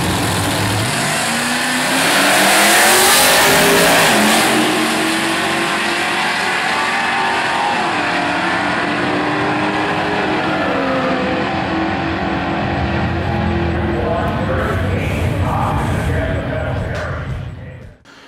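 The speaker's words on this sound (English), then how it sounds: "when I saw this thing rocketing down the quarter mile with rear wheel drive and a V8 sound and nitrous" A rear-wheel-drive Mitsubishi Eclipse swapped with an LSX V8 and running nitrous roars down a quarter-mile drag strip, its engine note loud and sustained with a surge early on, under crowd and announcer noise.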